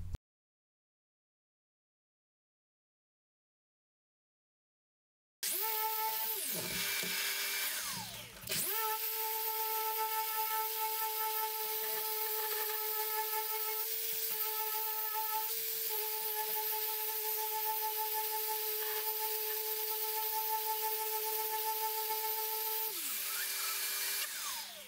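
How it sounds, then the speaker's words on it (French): A power sander works on ukulele wood panels. After about five seconds of silence it starts up, stutters twice, then runs as a loud, steady high whine with a constant hiss and winds down at the end. "je peux vous dire que cette ponceuse"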